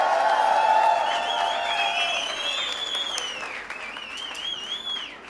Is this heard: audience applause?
yes